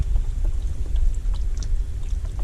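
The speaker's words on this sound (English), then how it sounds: "Vegetable broth in there with it." Vegetable broth is poured into a pot for roasted cauliflower and garlic cream soup, giving a continuous low, rumbling splash with a few scattered drips, close and steady.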